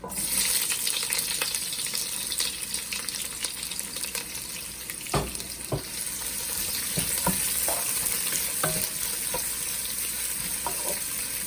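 Chopped onions frying with bay leaf, cardamom, black pepper and clove, a steady close sizzle with intermittent scraping and clacking of a spoon stirring the pan, no voices.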